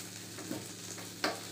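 Okra (lady fingers) frying in a pan, a soft steady sizzle with two brief clinks or stirring knocks, quiet and close, no talking.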